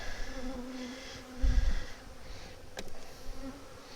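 A faint, continuous buzz of honey bees rises from an open hive during an inspection, with a dull low thump partway through and a brief click later, all without talk.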